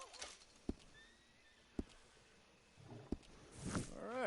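A horse whinnies near the end in the Red Dead Redemption 2 video game, a rising, wavering call that follows a few sharp clicks and thuds over a quiet ambient background.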